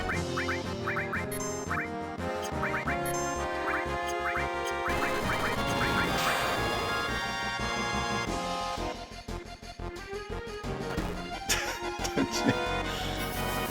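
Squawking, quacking bird cries from a chicken in Final Fantasy VII, repeated over loud, busy game music with brief pauses.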